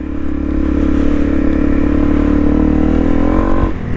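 A Honda CRF250 Rally dirt bike's engine holds a loud, steady rev close by, then climbs sharply in pitch near the end as the throttle opens, with no talk.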